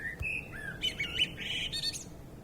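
A blackbird sings a clear, fluting phrase of varied whistles and warbles, moderately close in a quiet garden setting, with no voices over it.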